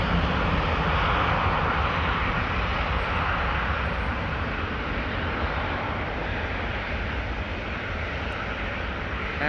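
Qatar Airways airliner taking off at Amsterdam Schiphol, a steady, loud, broad jet roar holding for about nine seconds with no voices.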